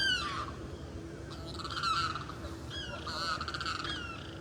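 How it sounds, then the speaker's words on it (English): A bird near a lake at night gives repeated harsh cawing calls in short bursts, fairly close and clear over a low steady background hum. "That's that same bird."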